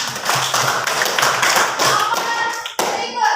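A Catholic religion class of fifth-grade children clapping their hands, brisk rhythmic claps from a small group at close range, with a brief break before a few more claps and faint voices.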